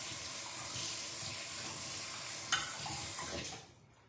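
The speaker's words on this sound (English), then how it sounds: "I need that whisk that I just threw in here. I do. Let me give it a little rinse." A kitchen tap runs steadily while a whisk is rinsed under it, with a bright clink of metal partway through before the flow cuts off near the end, close and alone without talk.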